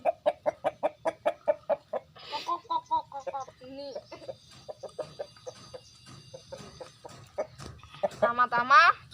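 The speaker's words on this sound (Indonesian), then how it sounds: "Saya akan mengambil ayam. Ini ayam yang ini ayam yang video partai pertama ya guys. Ini ayam Birma" Burmese chicken clucking in a steady run of short, close, evenly spaced calls, followed by a stretch of rougher broken clucks and a final burst of louder cackling; someone talks over parts of it.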